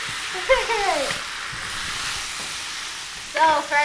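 Canned ingredients being stirred into a pot of taco soup, with a steady sizzling, frying hiss and brief scraping strokes near the start and end, while faint voices talk in the background.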